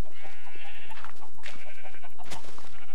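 Minecraft sheep bleat close by, several wavering cries one after another, over a busy game background.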